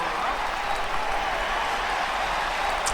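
Baseball crowd at a Cubs game cheering after a strikeout, a dense, steady roar of applause and shouting filling the stadium at moderate loudness.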